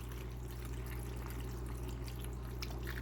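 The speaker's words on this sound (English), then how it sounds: "put some water in there, just like that." Water is poured into a jar for a fermented hot sauce, a faint continuous trickle and splash over a low steady hum, with no talking.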